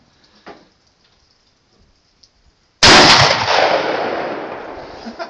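A single loud, close blast from a 20 gauge shotgun fired outdoors, a sharp report with a long decaying tail, preceded by a few seconds of quiet with faint small knocks.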